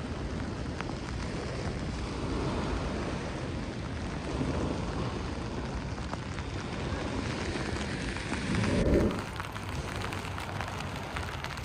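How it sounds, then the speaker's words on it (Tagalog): Rain falls steadily near the Golden Gate Bridge in San Francisco by the Pacific Ocean, a dense continuous hiss mixed with wind rumble on the microphone, swelling briefly near the end. "I love the rain."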